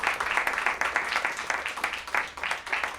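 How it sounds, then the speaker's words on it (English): A quiz show audience in Mumbai applauds at the end of a round, with steady, moderately loud clapping that carries on for a few seconds. "Big round of applause for these three people."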